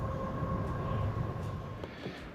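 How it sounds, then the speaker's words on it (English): A very long goods train runs along the Melbourne to Sydney railway, a steady rolling rumble of wagons with a faint metallic whine, heard from a distance at a lookout without any voices. "really, really long goods train travelling on the Melbourne to Sydney railway"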